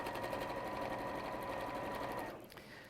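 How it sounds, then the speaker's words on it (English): A sewing machine stitches quilt pieces together, a fast, steady close-up mechanical whirring that runs continuously and then winds down and stops near the end. "So I'll just sew these two together."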